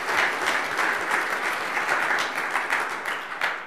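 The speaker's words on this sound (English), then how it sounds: "So huge round of applause to Square Roots Collective for making tonight possible." Audience applause after a round-of-applause call at a community placemaking pitch competition evening, dense even clapping from a crowd filling the room, loud and continuous for a few seconds without talk.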